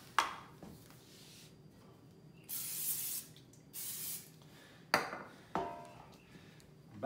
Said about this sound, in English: now I'm gonna put some grease on my pan